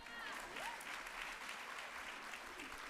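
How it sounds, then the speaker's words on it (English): A seated audience at a talk breaks into sustained, even clapping heard from within the room, with a few faint voices murmuring beneath. "you can clap for that"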